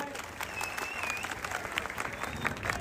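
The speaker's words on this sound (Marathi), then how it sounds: "कुस्ती सुरू झाली, टाळ्या करा सर्वांनी" Spectators at a Maharashtra kushti wrestling bout clap steadily as the match begins, dense applause from a crowd with a whistle and voices mixed in.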